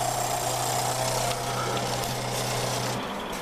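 The engine of a 1960 Nash Metropolitan idles steadily up close with a constant humming drone and mechanical clatter, the tone shifting slightly near the end, and no talk.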